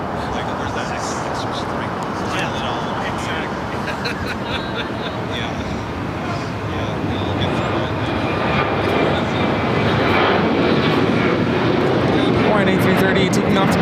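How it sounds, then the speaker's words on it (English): An Airbus A330 airliner takes off at LAX, a broad, steady jet engine roar that builds gradually and grows louder toward the end, with radio talk and other voices over it. "A330 taking off to Kona"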